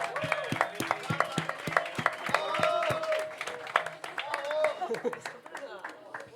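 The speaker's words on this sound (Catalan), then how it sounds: "Un aplaudiment a la Clàudia, tots," Audience applause for a guest named Clàudia at a live show in the Heliogàbal venue: a burst of sharp, close claps mixed with cheers and overlapping voices, fading toward the end.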